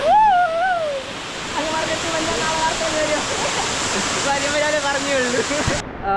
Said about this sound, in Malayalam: ഇതാണ് നമ്മുടെ മലയഗിരി വാട്ടർ ഫാൾസ്